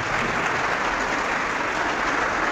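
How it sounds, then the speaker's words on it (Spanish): A church audience applauds a pastor during a Catholic–Protestant debate, producing a thick, continuous roar of clapping that stays loud and steady throughout the short burst. "Un aplauso para el hermano."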